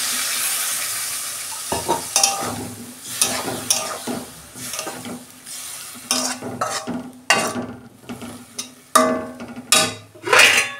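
Leafy greens cooking in a pan with a splash of water, a steady sizzle broken by repeated clinking, scraping strokes of a spatula stirring, loud and close with no talking.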